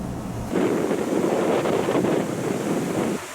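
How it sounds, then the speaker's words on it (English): A waterfall in Sequoia National Forest gives a steady, rushing roar of falling water. It swells in after a brief quieter moment and continues evenly and fairly close, with no voices over it. "Oh, here's my waterfall."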